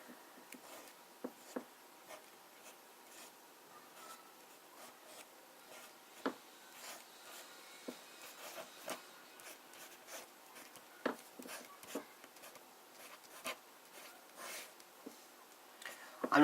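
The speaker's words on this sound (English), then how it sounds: "I think we should do a little bit of fat writing" Conway Stewart Edgcumbe fountain pen nib scratching across paper in broad strokes, a quiet, close series of soft scrapes and ticks at an uneven rhythm.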